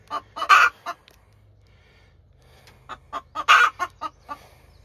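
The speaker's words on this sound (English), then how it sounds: "Listen to him mouth." Chickens in a coop cluck close by in two short bursts of rapid, agitated clucks separated by a quiet pause.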